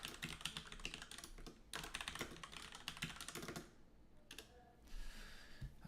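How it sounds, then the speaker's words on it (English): Quick bursts of computer keyboard typing, close and fairly quiet, with dense clicking runs broken by short pauses. "Keep typing."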